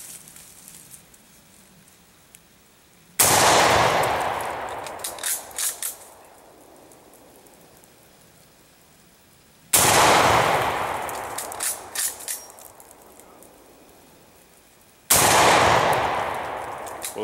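Three sharp, loud rifle shots from an M44 firing Bulgarian surplus 147-grain 7.62x54R rounds into a tree outdoors, spaced several seconds apart, each followed by a long rolling echo that fades before the next.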